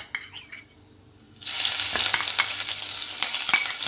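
Garlic ginger paste hits hot oil with bay leaves in a pan and erupts into a loud, steady sizzle after a quiet start, broken by a few sharp clinks of a utensil stirring.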